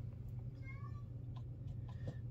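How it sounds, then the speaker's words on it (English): A house cat in another room gives a few faint, distant meows over a steady low hum, thin and drawn out rather than loud. "I got Hammy in the other room saying, no"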